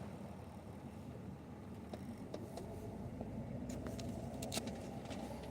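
A car is driven along a road, heard from inside the cabin as a quiet, steady low rumble of engine and tyres with a few faint clicks and taps, no talking.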